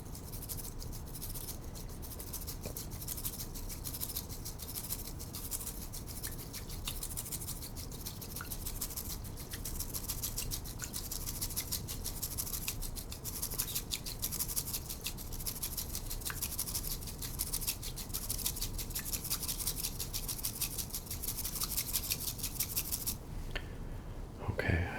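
Matcha powder worked into a frothy drink, a soft, rapid brushing and scratching of a whisk in a bowl that continues steadily and closely, recorded quietly in a whispered ASMR style.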